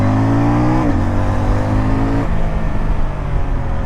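A 2025 CF Moto 800 NK motorcycle accelerating on a road, with a loud, close engine drone rising in pitch, a gear change cutting in partway through, and a steady roar with wind noise.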